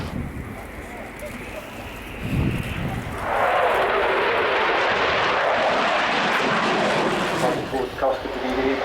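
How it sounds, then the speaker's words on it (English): Spanish Air Force Eurofighter jet taking off at the Royal International Air Tattoo airshow, its engine roar swelling from a distant rumble into a loud, sustained broadband blast. "And here it is, on the roll from Spanish Air Force Eurofighter, ES-2000."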